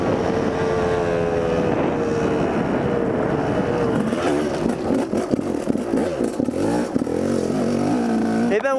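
An enduro motorcycle ridden on everyday trails, its engine droning steadily then revving and rising through the gears, loud and close with wind buffeting the microphone.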